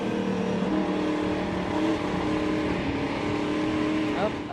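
Race car engine accelerating at Knoxville Raceway during a Superstar Racing Experience race, a steady rising roar with cars droning throughout, heard beneath commentary.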